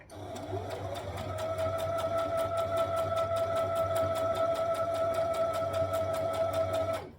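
A sewing machine runs continuously while stitching a dress seam, with a steady mechanical whir and a rapid, even needle clatter heard up close.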